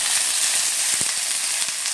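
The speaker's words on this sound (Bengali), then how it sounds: "এবার আমি ওই তেলের মধ্যেই দিয়ে দেব কেটে রাখা শিম আর বেগুন" Cut flat beans and eggplant hit hot oil in a pan, a loud, dense frying hiss that stays steady throughout, with a single soft thump partway through.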